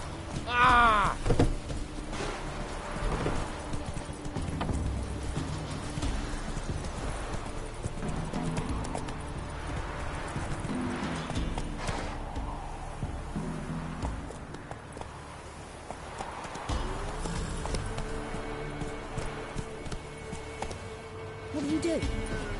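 Roach, the horse from the video game The Witcher, gallops with rhythmic hoof clip-clops and a brief whinny near the start, running steadily under game music and background effects.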